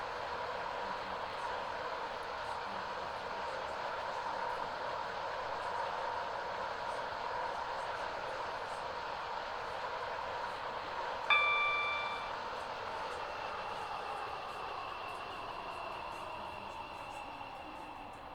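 A metro train in the Roblox game Stepford County Railway runs with a steady, faint electric hum and rolling noise, and a brief chime-like ding sounds partway through.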